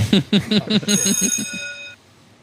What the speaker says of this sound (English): Our bell got chopped and screwed.